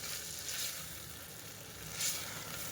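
Farali pulav gently sautéing in ghee, a soft, steady sizzle with a faint crackle that swells briefly a couple of times, low and close with no voices.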